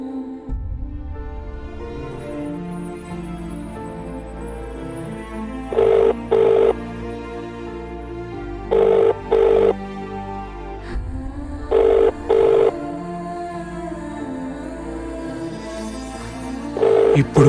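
A telephone rings in repeated short bursts of paired tones, loud and close, separated by longer pauses over a low sustained background of music-like tones.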